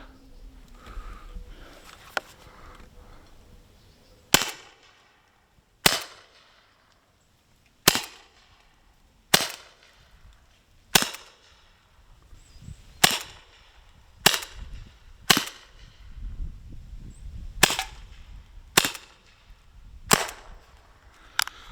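Umarex HDR68 air revolver firing at a pumpkin: about a dozen sharp, loud cracks at irregular intervals, with quieter handling noise between them and no talk.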